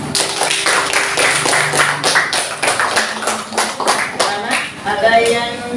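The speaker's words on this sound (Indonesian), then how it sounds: "Tepuk tangan dulu buat Neti" Classroom clapping for a student after a Hindu religion lesson presentation, a dense run of many hands applauding steadily for several seconds, close and fairly loud, with some voices murmuring underneath.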